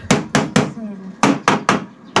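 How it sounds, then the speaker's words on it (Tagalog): Seven sharp, loud hammer blows strike a loose board close by, first three in quick succession, then a short pause with a faint murmur, then three more rapid hits and a final one. "Pinupukpok natin."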